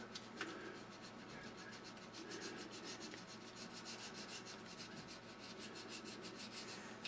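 A micrometer's stiff, over-tightened thread being turned, producing a faint continuous dry rubbing scrape with a fine ticking texture, close and steady throughout.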